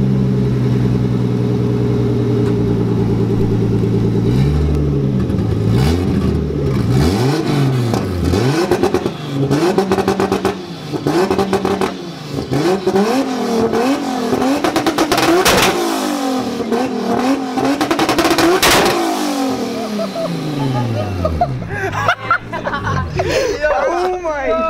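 A Nissan car engine revs in rising and falling bursts over about twenty-five seconds, close and loud, with people chatting and laughing over it throughout.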